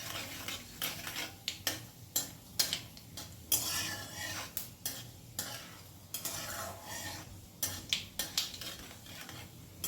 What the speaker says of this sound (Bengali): ফোড়নটা একটুখানি নেড়ে নেব কয়েক সেকেন্ড